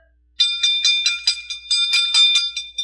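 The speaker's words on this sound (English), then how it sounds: "there's the bell" A wrestling ring bell at an EPW battle royal is struck rapidly about a dozen times in a bright, ringing burst, loud and close, with no voices.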